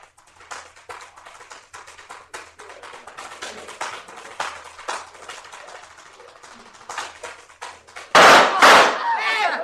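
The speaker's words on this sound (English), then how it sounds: "He's been shot." A gunshot effect in an old-time radio mystery drama, a loud sharp crack with a short echoing tail near the end, after a stretch of quick tapping footwork on a hard floor.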